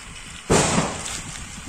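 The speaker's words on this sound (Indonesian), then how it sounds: "Ada suara mercon" A sudden loud burst, like a popping firecracker, from a toy train erupts and then settles into a sustained crackling hiss.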